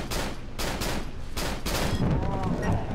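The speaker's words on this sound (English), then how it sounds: "Use the Remington, shoot it." Rapid bursts of Remington gunfire in the horror video game Cry of Fear, several sharp shots in quick succession, loud and close, with a voice talking over the end.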